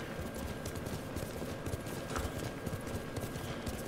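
Steady clip-clop of horse hooves at a brisk gallop in Ghost of Tsushima, a dense rhythmic patter over a low rumble with no pauses.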